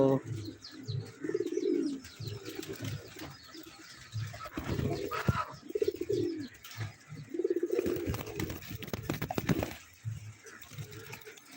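Pet Karnapura pigeons coo in repeated soft, throaty phrases close by, with a few faint chirps and light rustles between them at a low, calm level.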